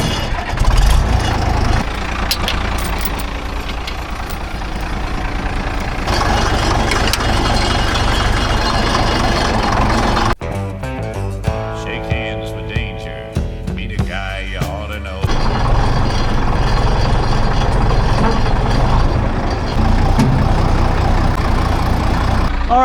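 An Argo amphibious ATV engine restarts after stalling and settles into a steady, loud idle, its rough running briefly dropping in level partway through before returning to a full rumble.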